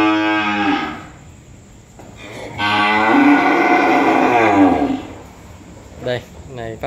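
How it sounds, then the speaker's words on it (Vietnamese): Cattle at a cattle farm give out loud, drawn-out moos, one long low bellow followed by a second sustained call and a few shorter grunts, close by. "Bò này dữ dằn không nghe anh em chú bác."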